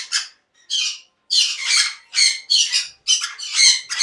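Conure parrots at a bird farm give loud, harsh squawks in repeated bursts, several close together with short gaps, some overlapping into raucous chattering.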